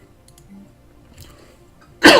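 A single sudden harsh cough from a gamer at a microphone, loud and close after a near-silent pause.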